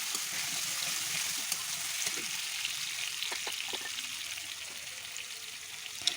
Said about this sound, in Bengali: এখন আমি একটু নাড়িয়ে নেব, আলুটা একটু ভাজা ভাজা করে নেব